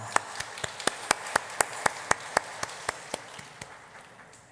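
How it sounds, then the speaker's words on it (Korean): A church congregation applauds its praise team with fairly quiet, rhythmic, evenly spaced clapping in a steady beat that fades toward the end. "오늘도 우리 너무 수고한 우리 카리스트 찬양단 격려의 박수 드리겠습니다"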